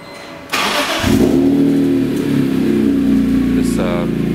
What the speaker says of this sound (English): This aftermarket Borla stainless steel exhaust really gives this car a growl